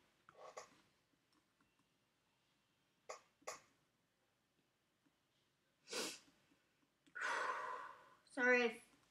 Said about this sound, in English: I'm just breathing in and out